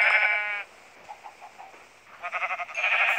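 Sheep bleating in Minecraft, several wavering nasal bleats in separate bursts with a quieter stretch of soft thumps between them, fairly close and with no talk.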